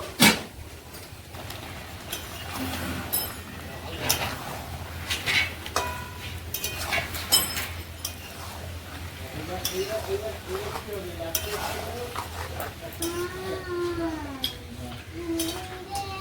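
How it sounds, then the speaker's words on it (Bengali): A lid lifted off a pot of chicken curry cooked with ground spice paste, followed by a spoon scraping and stirring against the pot under a soft sizzle, with scattered clinks and a low background hum. "ঢাকাটা এবার খুলে নেব, খুলে দিয়ে একটু নাড়া দিয়ে নেব।"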